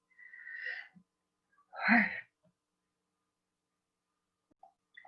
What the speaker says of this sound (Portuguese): Deixa eu espirrar, peraí.